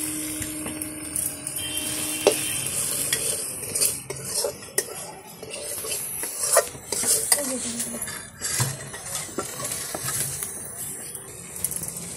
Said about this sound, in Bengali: এই যে এবার ওই যে ভেজে রাখা আলুটা দেওয়া হচ্ছে কষানো মশলাতে